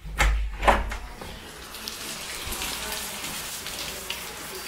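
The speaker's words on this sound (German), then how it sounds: "Ihr hört es vielleicht. Es hat die ganze Nacht durchgeregnet." Steady rain falls after a night-long downpour, a soft continuous patter and hiss throughout, with a couple of brief louder knocks near the start.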